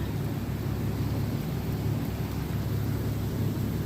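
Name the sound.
rain storm in Wyoming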